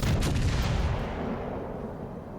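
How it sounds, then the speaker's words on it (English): Battleship main guns firing in World of Warships Legends, a heavy booming salvo up front that rolls off into a long low rumble fading over a couple of seconds. "Might be able to get a little"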